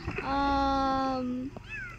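A cartoon cat in the Toca Boca video game gives one drawn-out, tonal meow, loud and close, followed by a short chirpy sound, with players talking around it.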